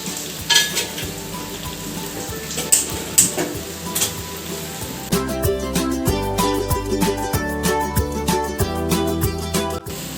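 Mint pakoda batter being stirred by hand or ladle with a spoonful of hot oil, close and fairly loud, with irregular wet squelching and mixing bursts, a faint sizzle and music running underneath.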